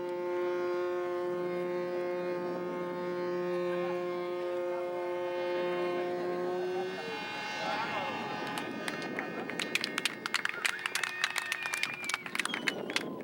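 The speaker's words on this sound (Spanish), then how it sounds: "la sirena del Cuculcán." A long, steady horn-like siren tone from the ship Cuculcán holds for several seconds, then fades into a busier, noisier passage with scattered clicks and crackles.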